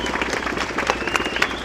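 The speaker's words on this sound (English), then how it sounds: "everybody give our Admiral here a round of applause for being here" Outdoor crowd at a Fleet Week 2025 concert in Bryant Park, New York City, giving a round of applause for an admiral, with dense, steady clapping and cheering from many people close by.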